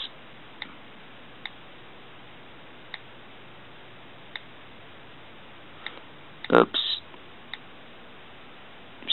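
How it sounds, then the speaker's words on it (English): Faint, sparse key clicks from typing on an iPhone touchscreen keyboard tick at irregular intervals, with a brief louder bump partway through, against quiet low-quality background noise. "So then you're going to tap into the search bar and type in BossPrefs"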